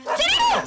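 A dog in a Tamil movie scene gives a short, close, loud bark-like yelp that rises and falls in pitch, heard alone.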